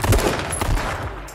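Rapid gunshots fire in a video game, a short loud burst of several rattling shots close together.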